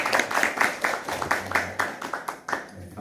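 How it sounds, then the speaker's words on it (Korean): A small church audience at a mission training gathering claps in even, rhythmic beats, about a dozen distinct claps close by and moderately loud, with no talking. "우리 박수 한번 해주시죠."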